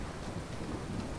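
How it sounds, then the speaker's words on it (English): Steady heavy rain with a low rumble of thunder from a storm, dense and continuous with no voices. "It looks like the storm's gonna clear up a little bit."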